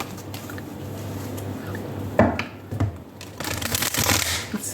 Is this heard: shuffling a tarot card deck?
yes